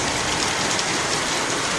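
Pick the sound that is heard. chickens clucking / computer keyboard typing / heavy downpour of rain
heavy downpour of rain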